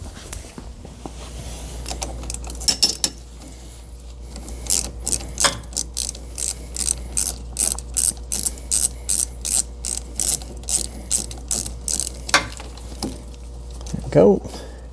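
A hand ratchet loosening coolant hose fittings on a MercRacing 3.0T boat engine, clicking in quick repeated strokes with brief pauses, close and moderately loud over a low steady hum.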